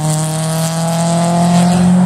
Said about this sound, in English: Cars speeding on the highway doing over the speed limit.